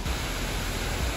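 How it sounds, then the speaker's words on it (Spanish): A waterfall in Rastoke, the village of cascades in Croatia, gives a brief, steady, full-bodied roar of rushing water with no other sounds. "caen esta pedazo cascada, súper chula"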